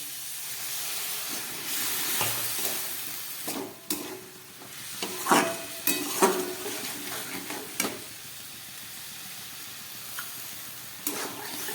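Water tipped into a pan of sautéed broccoli and vegetables seasoned with Maggi masala, giving a broad steady sizzle and hiss with scraping stirs and a few sharp clatters, close and loud with no talking.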